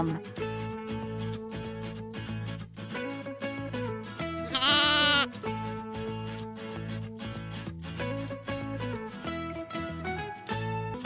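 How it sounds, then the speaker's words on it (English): One wavering, quavering lamb bleat rises up in the middle, loud and close, over continuous background music. "Lamb."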